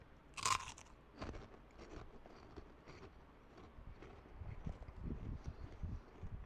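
Someone bites into a crunchy Taco Bell flavored snack with one loud crisp crack, followed by a run of softer crunches as they keep chewing near the mic.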